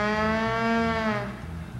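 A loud, drawn-out cow moo from a stage show, steady and close with no talking over it, most likely a person or instrument imitating the cow.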